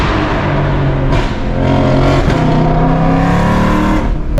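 A 1,000-horsepower Ford Shelby GT500 in track mode roars loud and close at a shop, its engine rumbling and revving continuously with echo off walls on either side, no talk over it.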